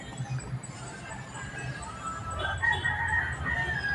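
Chickens cluck and crow faintly in the background over a low, steady outdoor rumble, with a few short higher calls toward the end.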